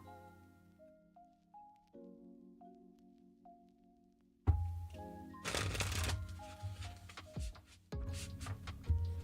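Tarot cards are shuffled by hand during a live tarot reading, several rustling bursts and snapping riffles close by over soft background music, with short pauses between them.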